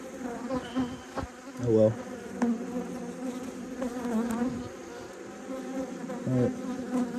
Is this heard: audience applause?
no